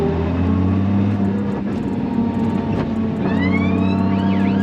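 A 600 bhp 2JZ-swapped rear-wheel-drive Subaru Impreza engine drones steadily up close, its low rumble rising and falling as the car accelerates, with faint whining tones layered above.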